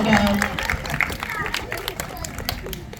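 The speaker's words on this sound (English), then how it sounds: "Can we give them a big round of applause?" Audience clapping and crowd noise at a sea lion show at Blackpool Zoo, a steady round of applause that starts strong and gradually tapers, with a voice and some crowd chatter mixed in.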